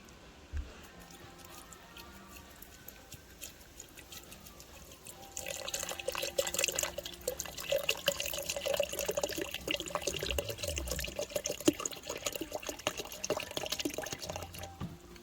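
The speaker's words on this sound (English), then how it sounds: "I'll add in the hydrochloric now." Hydrochloric acid is poured into a gold leg solution from vintage transistors, giving a steady close liquid trickle and splashing that starts partway through and continues for several seconds, faint and alone.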